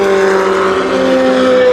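A race car at Le Mans sweeps through the Porsche Curves in a loud, sustained engine howl at close range, steady in pitch and filling the moment.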